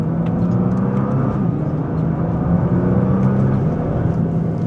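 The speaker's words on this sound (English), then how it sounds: "You gotta love that bell housing rattle when you start the car up." A Nissan GT-R idling just after startup, a loud, close, steady engine rumble with a low mechanical rattle from the bell housing running underneath, and no talking.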